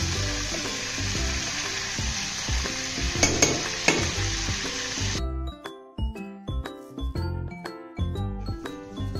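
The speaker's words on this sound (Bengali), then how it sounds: "গরম তেলে দিচ্ছি দুটো তেজপাতা, 4-5টা শুকনো লঙ্কা, দারচিনি, লবঙ্গ, এলাচ আর গোলমরিচ।" Bay leaves, dry red chillies, cinnamon, cloves, cardamom and peppercorns crackle and sizzle in hot oil after crabs have been fried, a loud steady fry with a few sharp pops, then quieter stirring.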